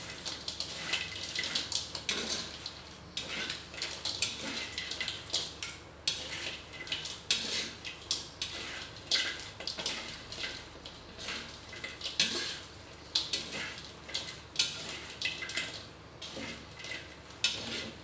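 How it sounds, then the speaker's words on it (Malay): Repeated scraping and clinking of a utensil against a pan as fried cassava chips are stirred with seasoning, steady and close, with no talk. "Ini dia punya singkong goreng, kita aduk rata."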